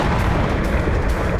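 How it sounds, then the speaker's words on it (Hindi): A FAB-500 aerial bomb explodes in Kherson, producing a heavy, continuous roar and rumble that fills the whole stretch at high loudness, with no voices heard. "हमले के बाद भीषण विस्फोट देखा गया।"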